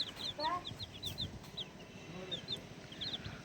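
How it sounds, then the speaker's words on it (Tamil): Forty chicks in a brooder setup with wire fitted overhead give high, repeated cheeps in quick scattered bursts, close by, over a low rumbling background. "நாற்பது கோழி குஞ்சுங்களையும் இதில் தான் விட்டுருக்குறோம்"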